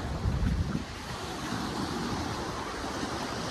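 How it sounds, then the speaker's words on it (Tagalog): Sea waves wash onto a beach in Fujairah, a loud, continuous surf roar mixed with wind buffeting the microphone, with a stronger surge near the start. "Ayan, tinulak na ako ng dagat."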